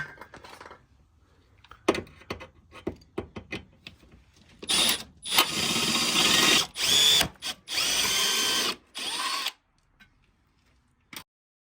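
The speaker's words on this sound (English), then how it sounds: "you're gonna have to drill this out right here" A power drill drills out part of a BMW 335d front bar, whirring in several bursts, a few short at first and then longer sustained runs, with clicks and gaps between them.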